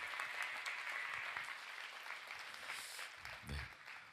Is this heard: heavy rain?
no